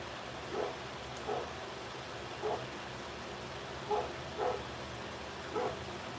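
A dog barks outdoors at a distance, six single woofs spaced about a second apart over a steady background hiss, with no voices.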